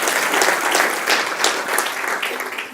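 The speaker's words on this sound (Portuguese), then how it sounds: "E quem crê, dê um aplauso forte para o Senhor Jesus." A church congregation claps loudly and steadily for a few seconds, a dense wash of applause with no voices standing out.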